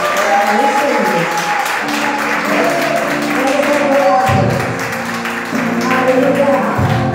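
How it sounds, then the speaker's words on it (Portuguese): A church congregation claps together during a worship service, a steady wash of applause running underneath a voice and sustained musical tones, with the clapping dipping briefly midway. "dá uma poderosa salva de palmas para o Senhor"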